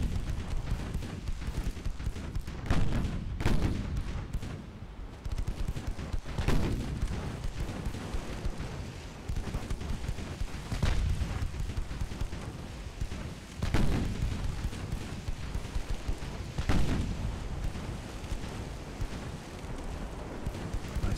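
Naval shell fire in Ultimate Admiral Dreadnoughts: repeated heavy booming salvos at irregular intervals over a dense, continuous rumble of battle noise, loud and sustained.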